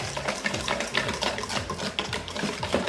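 Stirring yogurt cake batter in a bowl, a steady rhythmic wet scraping and clinking of a utensil against the bowl, repeated quickly and close, with no talk.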